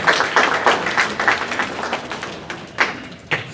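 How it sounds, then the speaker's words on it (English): Audience applause at a community magazine get-together as named people are called onto the stage: irregular clapping and taps swelling in bursts across the room, moderately loud, with no voices over it. "And a round of applause, please."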